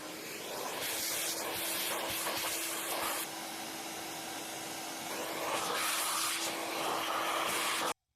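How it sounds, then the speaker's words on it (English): Vacuum cleaner sucking dirt out of a mortice lock during restoration, a steady close whine with a constant hum, changing pitch slightly as the nozzle moves, running alone for about eight seconds. "It's a bit dirty, so I'll just get it with a vacuum cleaner."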